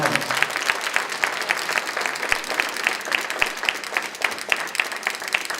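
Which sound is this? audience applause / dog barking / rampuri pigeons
audience applause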